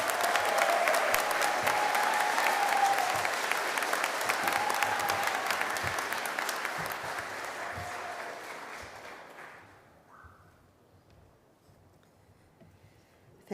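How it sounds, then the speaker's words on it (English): Family and friends at a university Faculty of Health graduation ceremony applaud the graduates in a large hall, with steady, full clapping that gradually thins and fades out to near silence after about ten seconds. "Give them a clap, please, everyone."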